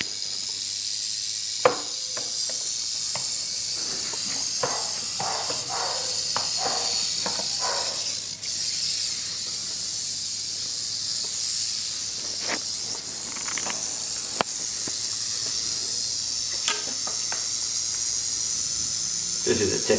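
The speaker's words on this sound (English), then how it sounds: "you can't really beat hearing that classic iconic cowboy movie rattle" A rattlesnake buzzing its tail rattle, a steady dry hiss that runs almost unbroken, with a few sharper clicks and faint handling noises scattered through it.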